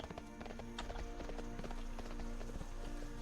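Video game donkey mount hooves clip-clop in a quick, steady rhythm, close and continuous over a droning game background.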